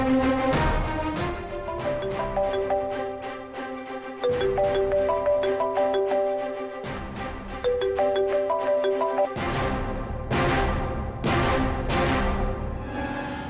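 A mobile phone rings with a melodic, looping ringtone, loud and continuous with repeated phrases and no voices over it, in a dramatic domestic scene.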